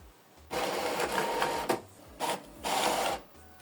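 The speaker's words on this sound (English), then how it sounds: "So print a test page." An Epson ET-4950 inkjet printer runs a test page, its print head sweeping in steady mechanical whirring passes broken by short pauses and clicks, close and fairly loud.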